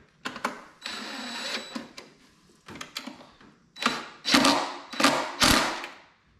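A ratchet wrench clicks in repeated close bursts while tightening throttle body bolts on a 5.3L V8, the bolts seating into a plastic intake sleeve.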